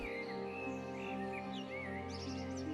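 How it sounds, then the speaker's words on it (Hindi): A cartoon bird chirps from a tree in a forest, its bright, repeated tweets rising over a steady layered background of music, continuous and fairly close. "एक चिड़िया आकर पास के पेड़ पर चहचहाने लगी।"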